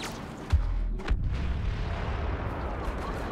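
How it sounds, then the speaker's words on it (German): A Mon Calamari cruiser crashing in the Star Wars Battlefront video game, heavy booming impacts and a deep rumbling roar, loud and close, with sharp blasts early on. "da stürzt ein Moncal-Kreuz ab"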